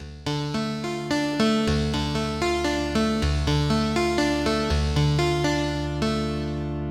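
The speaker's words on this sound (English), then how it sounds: "It's cool how you kind of get that organ sound coming in after." A Heavyocity Mosaic Neon synth patch plays a bright, organ-like sequence of rhythmic chord stabs over a deep sustained bass that shifts notes, loud and close with no talking.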